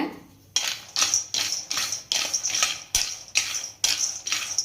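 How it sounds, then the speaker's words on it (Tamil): Almonds dry-roasting in an iron pan while being stirred, making a regular series of about eight rattling, scraping clatters with a steady rhythm, close and clear, with no talk. "இந்த பாதாம் வறுக்கும் போது பாருங்க சடப்புடான்னு சவுண்டு வருங்க."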